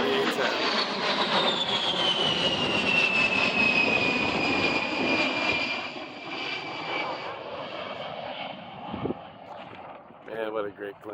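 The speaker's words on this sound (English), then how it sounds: "Last flight of the A-10." An A-10 Thunderbolt II jet making its final flight at the Stuart Air Show roars loudly and steadily overhead, with a long rising-then-falling whine as it passes before the noise eases away.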